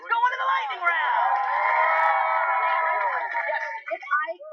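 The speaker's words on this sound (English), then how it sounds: "Let's cheer them on" An audience cheers and whoops loudly for a game-show team, a sustained burst of shouting voices that swells for several seconds and then breaks into scattered calls and fades.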